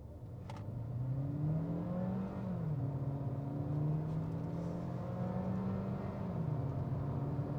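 A Suzuki Vitara S Boosterjet Allgrip launched hard from a standstill, its engine note climbing through several gear changes, droning steadily from inside the cabin with no talk.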